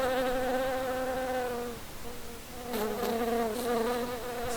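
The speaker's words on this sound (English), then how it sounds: "The honey bee collecting the or sucking honey from the flower." Close, steady buzzing of a honey bee collecting nectar from flowers, with the pitch wavering as it moves, dipping briefly and then returning loud and continuous.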